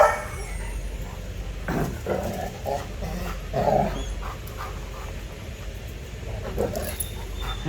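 A dog whimpers and whines softly in short bursts over a constant background rumble, close by, without speech.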